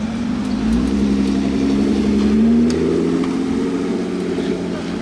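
A Lotus Exige 380 sports car on a Monaco street gives a loud, close engine note that holds a steady drone and then climbs in a rising rev before settling, with street noise around it.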